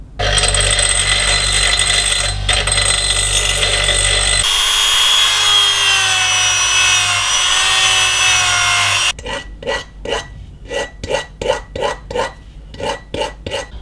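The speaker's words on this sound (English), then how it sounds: "clean it all around with the Dremel tool" A Dremel rotary tool grinds a copper end cap for a cantenna, whining loudly and close in long steady passes whose pitch changes between them, then breaking into a series of short rhythmic grinding bursts.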